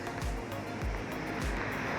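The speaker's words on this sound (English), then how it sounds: "So this is the Bangadi River." The flooded Bangadi River in Nairobi churns in a loud, constant roar of rushing water with low rumbling surges, close and continuous, with no talking.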